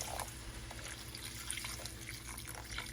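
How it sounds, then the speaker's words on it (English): Water trickling into a pan of flour, oil and butter for a gravy, a faint steady pour with small drips and splashes over low kitchen hum. "And now we're going to add in our water."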